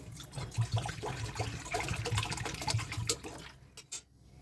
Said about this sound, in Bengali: কড়াটা বসিয়ে দিয়ে এতে আমি পরিমাণ মতো জল দিয়ে দিচ্ছি